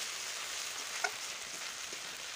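Ground spice paste sizzles while being stirred in a pan for river fish chachchari, a quiet steady frying hiss with one brief clink of a utensil.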